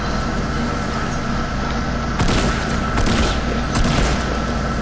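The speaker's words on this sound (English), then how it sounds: "His teammates are shooting." Teammates' gunfire in a shooter video game, loud dense bursts of shots and booms over a constant rumbling background, with two sharper volleys near the end.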